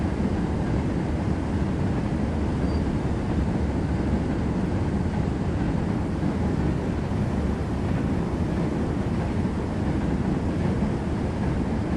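A train rumbling steadily along in Train Sim World on the West Coast Main Line between Crewe and Preston, a continuous broad roar with wind-like rush and no pauses, loud and close for the whole stretch.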